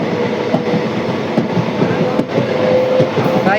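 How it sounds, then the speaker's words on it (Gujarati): Crossing the Bhadar river bridge, a train rumbles loudly from onboard with a steady roar and rhythmic clickety-clack of wheels over rail joints, plus a faint squeal late on. "પુલ ઉપરથી આપણી ટ્રેન પસાર થશે ભાઈ."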